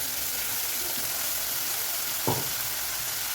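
Ground tomato paste poured into onions frying in a pan for okra kuzhambu, a broad steady sizzle hiss throughout with one brief low splash-thud near the end, no voices.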